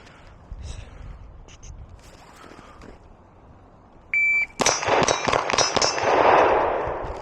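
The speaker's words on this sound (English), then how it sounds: "let's go ahead and grab the P365 XL and put some rounds to it" After a short electronic beep, a SIG P365 XL carry pistol fires a quick string of sharp, loud cracks at a shooting range, with no voices over the shots.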